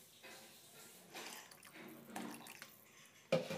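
Water poured from a glass into a cooking pot while making a simple pulao: a faint running splash over a few seconds, then a sharp clunk of the glass at the end.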